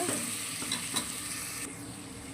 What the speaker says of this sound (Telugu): బాగా కలుపుకొని ఒక 5 నిమిషాలు అయితే వేయించుకోవాలి